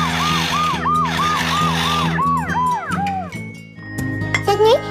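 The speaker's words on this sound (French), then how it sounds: "la sirène des ambulances, ça permet d'arriver à temps à l'hôpital" Ambulance siren wailing in a repeating two-tone pattern, loud and close, then sliding down in pitch as other tones and clinks cut in near the end.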